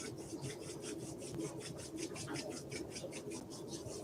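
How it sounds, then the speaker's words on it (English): Two hands rubbing briskly together, a soft rhythmic rasping swish repeated quickly and evenly, close but quiet, alone with no talk. "Rub your hands together."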